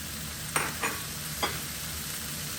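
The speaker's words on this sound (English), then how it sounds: "Next, I'm going to add my tomatoes" Tomatoes are tipped into a pan of frying vegetables for a frittata: three quick, separate clatters and scrapes land over a steady low sizzle.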